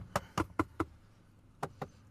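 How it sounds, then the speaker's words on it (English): Someone knocks their knuckles on their own forehead: four quick, dull, close knocks in a rapid run, a short pause, then two more, all alone in a quiet room. "I knocked on my forehead because I don't know why"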